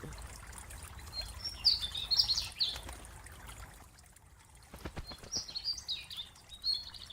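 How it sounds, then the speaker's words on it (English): A loud songbird in a video game demo chirps in shrill bursts of high notes over a trickling water background, the calls repeating in two clusters and close at hand. "That bird! That bird is so loud!"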